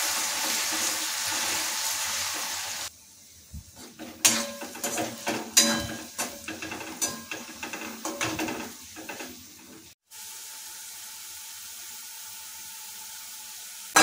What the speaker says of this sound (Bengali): এই গরম তেলের উপরে আমরা লবণ হলুদ মেখে রাখা আলুগুলো যোগ করে দিচ্ছি।